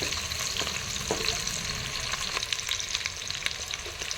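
Onions frying until brown for a village-style chicken biryani, a dense continuous sizzle with scattered crackles and pops, loud and close with no voices.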